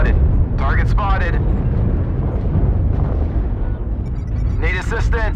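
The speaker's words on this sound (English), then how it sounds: "Artillery strike activated." Artillery strike explosions in MechWarrior Online roar as a dense, continuous low rumble of blasts, with a voice speaking over the barrage at the start and end.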